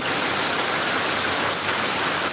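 Torrential monsoon rain pours down outdoors in northern Bangladesh, a loud, dense, unbroken hiss filling the whole moment with no voices.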